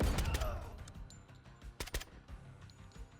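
A flashbang goes off during a night close-quarters raid in Door Kickers 2, a sharp bang amid a few quick bursts of gunfire and clatter, moderately quiet and without voices.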